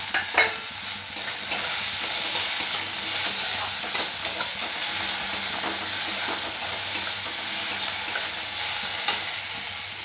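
Chopped tomato hits hot oil with softened onions and fries in a pan, a steady bright sizzle up close, broken by scraping stirs and occasional spatula knocks throughout.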